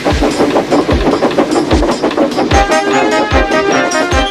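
A Plarail toy train rolls along its plastic track with a rapid, regular clicking clatter and motor whir, loud and close, with a rhythmic thump recurring roughly every half second.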